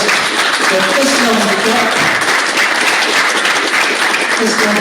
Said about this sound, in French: je crois qu'on peut applaudir et surtout remercier Michael Latos de Tesla